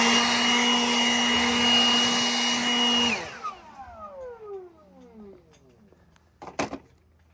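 A router cutting a roundover edge whines loud and steady for about three seconds, then spins down with a falling pitch, followed by a brief sharp clatter near the end.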